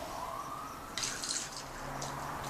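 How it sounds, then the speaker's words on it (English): Jello shot mixture for traditional Thanksgiving jello shots being poured into small cups, a soft trickling liquid stream with a brighter splashy burst midway, fairly quiet and close. "I'm just going to start pouring our mixture into the cups."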